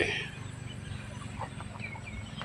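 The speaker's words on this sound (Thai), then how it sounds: "ส่วนเจ้าไก่ทั้งหลายปลอดภัยกันดี ไม่มีปัญหาอะไร กินข้าวเดินเล่น ตามสบาย" Chickens cluck softly among scattered short calls at a temple yard, fairly faint over a steady low background rumble.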